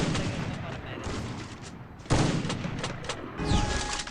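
Rapid bursts of gunfire and explosions fill a shooter video game match, the shots dense and loud throughout with a heavier blast midway, while a player talks over the action.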